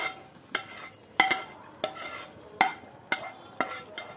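Green onions stirred into frying masoor dal in a pan, with a regular series of about eight scraping spoon strokes over a soft sizzle, close and alone.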